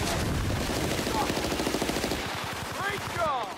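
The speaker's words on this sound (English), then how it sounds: "Machine gun!" Sustained machine gun fire in Battlefield: Bad Company on Xbox 360, a loud continuous rattling stream of rapid shots with battle noise, tapering near the end.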